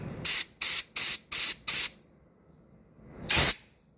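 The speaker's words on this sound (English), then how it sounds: "And give it a little compressed air." Compressed air sprays onto a Honda GCV small-engine carburetor being cleaned, five short sharp bursts in quick succession, then a pause and one more loud blast, close and without talk.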